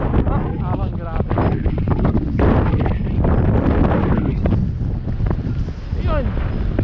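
Powerful sandstorm wind at Al Kharrara, Qatar, pounds the microphone in a loud unbroken roar with thumping gusts on a mountain bike ride, voices faintly audible beneath it.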